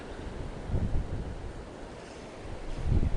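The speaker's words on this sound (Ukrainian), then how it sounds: "Нитку підхоплює вітер." Wind buffeting the microphone in low, rumbling gusts that rise and fall, loud and close, with no talking.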